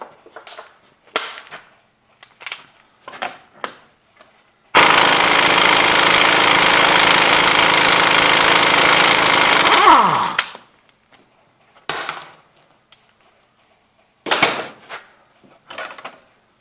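On a Jeep Commander being fitted with a new wheel bearing, a power tool buzzes for about five seconds to spin off the hub nut, winding down at the end, with scattered metallic clanks and taps before and after.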